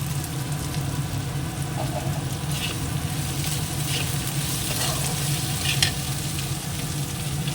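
Potatoes, followed by onions, fry in a wok with a steady, dense sizzle throughout and occasional scraping stir sounds; no one speaks.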